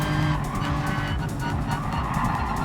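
A race car in Gran Turismo Sport during an online race, its engine roaring steadily with tires squealing and skidding in a dense, continuous burst, loud and close, with no talking.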